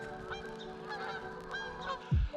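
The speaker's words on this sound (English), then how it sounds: "the geese want to come through and say hi" Geese on a New Hampshire lake give faint, scattered honks over a steady hum, ending with a louder low thump near the boat.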